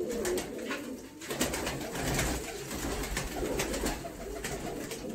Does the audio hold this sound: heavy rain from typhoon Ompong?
no